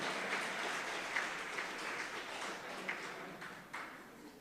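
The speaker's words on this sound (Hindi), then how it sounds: "ताली बजा लो" Scattered audience applause at a spiritual lecture on parenting, a steady patter of many hands held at a moderate level with a few sharper claps, heard from within the hall without any talking.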